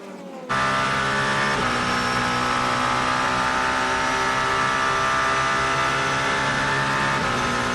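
A Peugeot endurance race car at Monza in a six-hour WEC race, its engine cutting in abruptly as a loud, sustained high-pitched whine with steady harmonics and small shifts in pitch.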